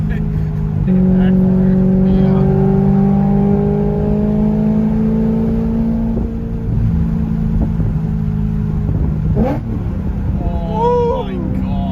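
A straight-piped BMW E92 M3 V8 exhaust roars loud and close, holding steady high revs with rising pitch before dropping off, followed by a few sharp blips, with voices talking briefly near the end.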